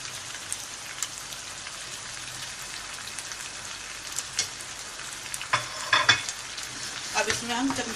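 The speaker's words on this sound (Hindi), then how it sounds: "इसी तरीके से हमें ये अपनी पतीली, बर्तन या पैन जो कुछ भी है, हमें इसी तरीके से इसको हिलाना है।" Potato koftas sizzle softly in oil in a pan that gets shaken rather than stirred, a low crackle that turns into clattering, splashy bursts near the end as the pan is moved.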